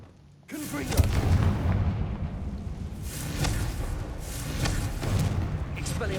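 A rumbling Confringo spell blast from the Hogwarts Legacy video game swells into a sustained, booming roar with repeated thuds, loud and continuous after a sudden onset.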